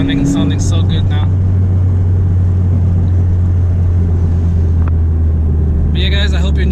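A tuned Honda Civic FK7 car idles steadily with a deep, continuous low rumble, loud and close, with brief higher mechanical chatter at the start and end.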